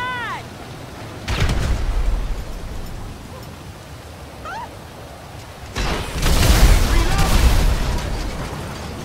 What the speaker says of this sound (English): We have a vehicle explosion on Genesis Boulevard in Rancho.